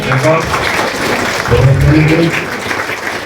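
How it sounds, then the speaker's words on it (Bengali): Guests at a Christian wedding ceremony in Alipurduar break into brief clapping, which is heard beneath a voice speaking over it. "আমরা সবাই হাততালি দেই"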